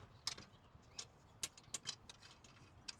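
M8 bolts with M8 fender washers being driven in during a mini bed installation in a Sprinter, Transit or Promaster van, heard as a string of sharp ratcheting clicks in irregular bursts, close and fairly quiet.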